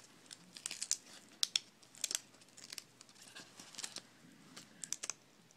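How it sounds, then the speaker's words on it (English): Tape being peeled off inside a Dell XPS M1530 laptop during an LCD screen replacement, heard as a quiet series of short crinkly ripping and crackling bursts, close up with no talking. "This is a piece of tape that you're going to peel out."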